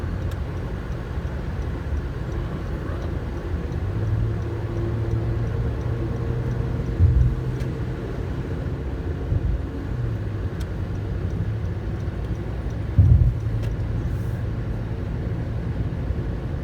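Car cruising on a highway out of Las Vegas toward Mesquite, a steady low engine and road rumble from inside the cabin, with a couple of brief thumps from bumps along the way.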